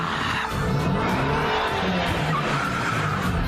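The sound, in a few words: cartoon cars skidding, coming from every direction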